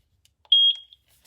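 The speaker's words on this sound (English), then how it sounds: "press this sync for 2 seconds until I hear a beep" A single sharp electronic beep from a eufy S40 solar security camera during sync, high-pitched and steady for about a quarter second, with a few faint clicks around it in a quiet room.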